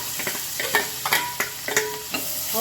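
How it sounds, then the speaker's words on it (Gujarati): Chopped onion sautés in a hot pan with a loud, close crackling sizzle broken by repeated scraping stirs of a spoon, no talk. "હવે એને એકદમ સારી રીતે સાતળી દઈશું"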